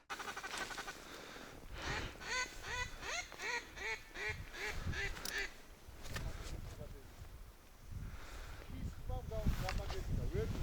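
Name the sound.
ducks quacking during a duck hunt on a river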